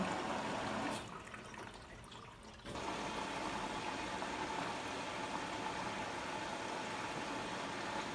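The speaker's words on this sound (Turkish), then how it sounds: "Her iki ventil gözünden de şu an makine su alıyor." A Siemens iQ700 washing machine fills with water through both inlet valves, a steady rushing hiss of flowing water that dips quieter for a moment early on, then resumes at full level.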